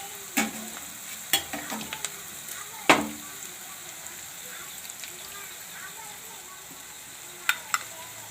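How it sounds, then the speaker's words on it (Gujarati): Spinach dropped into a frying pan of gram flour mixture and stirred, giving a soft steady sizzle with scattered clinks and scrapes of a spoon against the pan. "હવે આપણે એમાં પાલક નાખી દેવું."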